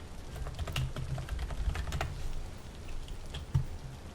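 Someone touch-types on a computer keyboard in a quick, continuous run of soft, close key clicks with a few slightly heavier strokes.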